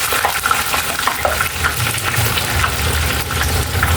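Chicken fries in hot oil, a steady close sizzle and crackle with bubbling, no voices.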